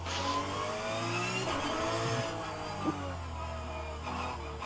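A Renault Clio Cup race car engine in the racing game rFactor 2 revs and shifts pitch steadily as gears change, a constant whining drone with a small knock partway through.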